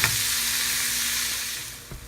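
Meat and vegetables frying in a pan, for stuffed portobello mushrooms: a loud, dense, continuous hiss of sizzling close up, easing slightly near the end, with a faint knock of a utensil.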